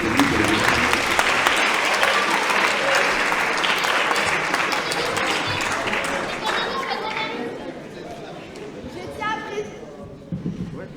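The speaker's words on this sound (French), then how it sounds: "On peut l'applaudir bien fort" Theatre audience applause during a live comedy play with a quiz game, dense and loud at first then thinning out over the seconds, with crowd chatter and voices mixed in.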